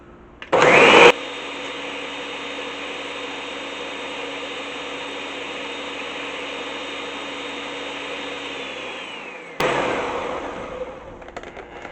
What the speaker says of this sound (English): And we're going to blend.